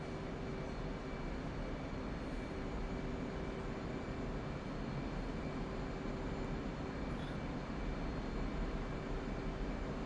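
A jet engine roars in DCS World, a flight combat game, as a dense, unbroken broadband roar with a steady tonal whine running beneath it, constant in loudness with no voices.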